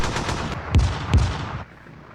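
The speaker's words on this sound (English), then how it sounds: "Oh, they're bombarding me." Artillery bombardment in a WW2 Stalingrad strategy game: two heavy, booming blasts about half a second apart over a continuous rumble of gunfire, which then drops away into quieter background.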